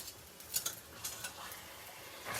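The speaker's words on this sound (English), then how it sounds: "and just give it a stir" Smoked baingan bharta is stirred in a pot, giving soft scraping strokes and a few light taps against a faint sizzling hiss, quiet and close.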